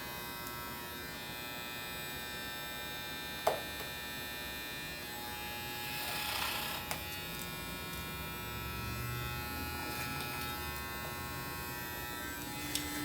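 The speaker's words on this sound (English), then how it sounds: "we're going to use our clipper at a horizontal across the clipper comb" An electric hair clipper buzzes steadily as it cuts hair over a clipper comb, a close continuous hum with a few small clicks and slight swells in intensity.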